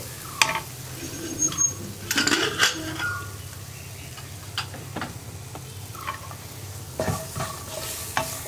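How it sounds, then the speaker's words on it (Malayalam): A spoon stirs and scrapes through a sizzling tomato and spice-powder masala for kadala curry in a pan, irregular clinks over a constant low frying hiss, close and with no talk. "ഒന്ന് ഇളക്കി ജസ്റ്റ് തക്കാളിയും കൂടി ഒന്ന് മിക്സ് ആയി കിട്ടണം"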